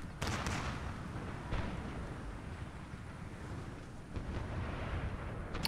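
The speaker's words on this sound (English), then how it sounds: "Nearly hit the general with a cannon there." Cannon fire on a battlefield in Empire: Total War, with the Ottoman army's artillery booming repeatedly amid steady rumbling battle noise, several sharp blasts standing out over a dense continuous din.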